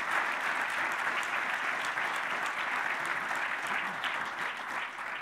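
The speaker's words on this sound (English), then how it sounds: "could you please give this panel a big round of applause" A forum audience claps for a panel in a sustained, even burst of applause from a large room, loud and continuous for several seconds before easing slightly at the end.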